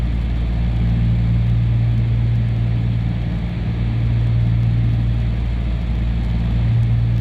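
Twin piston engines of a Cessna 310 at full throttle and 2300 RPM in flight, a loud, steady, droning hum that fills the cabin without a break.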